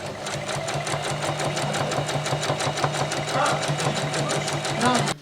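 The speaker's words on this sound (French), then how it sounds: "Là, je suis en train de coudre les 5 mm." A sewing machine topstitches a 5 mm seam on a jacket band, its needle ticking in a fast, steady rhythm close by throughout, with a soft voice briefly under the stitching.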